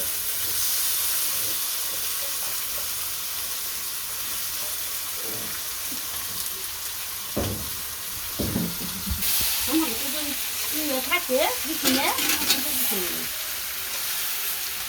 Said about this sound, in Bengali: মাংসটা দিয়ে আমি ভালো করে কষাবো